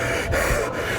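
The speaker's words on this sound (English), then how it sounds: "the low HP breathing sound does not go away during cutscenes" Heavy, repeated panting breaths from a badly wounded character at low health in the video game Turbo Overkill, steady and close with no speech.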